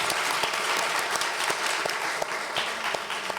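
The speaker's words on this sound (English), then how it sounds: "Shall we give them a big round of applause," An audience at a panel discussion on ASEAN's regional role gives a steady round of applause, an even wash of clapping with no break throughout.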